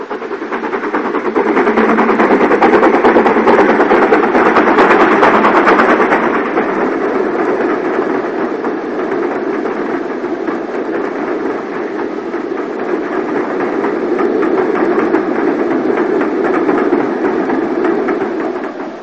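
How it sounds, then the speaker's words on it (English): A BR Standard Class 9F steam locomotive on the Somerset & Dorset line works hard as it approaches, a continuous loud rushing chuff that swells early, then holds steady for nearly twenty seconds with no voices. "With smoke to order, a 9F emerges"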